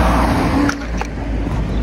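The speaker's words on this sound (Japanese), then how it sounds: "あ、車来るよ。" A car passes along a street at a crosswalk, a loud, close engine and tire rush that swells and then eases slightly over under two seconds.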